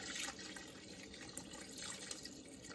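Water pours steadily into a pot of beef stew with vegetables, a continuous splashing, trickling stream at moderate distance with no talking.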